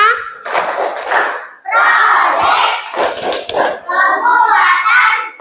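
Classroom of schoolchildren in Indonesia shouting a rhythmic clap chant together, loud bursts of young voices with claps in short phrases and brief pauses between them.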